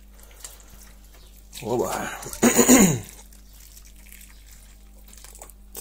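Water poured out through a homemade false-bottom filter, a short close gush and trickle lasting about a second and a half, with a brief spoken exclamation in the middle.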